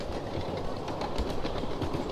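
Model train running on its rails through a Halloween-decorated haunted woods display, a steady close rolling rumble with faint rhythmic clicking, continuous and alone for the whole stretch.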